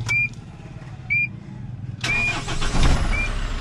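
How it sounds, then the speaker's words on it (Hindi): Tata Sumo Gold engine starting after a service: a few short cranking bursts with beeps, then the engine catches at about two seconds and settles into a steady diesel-like idle, close and fairly loud. "तो अभी गाड़ी हमारी स्टार्ट हो गई"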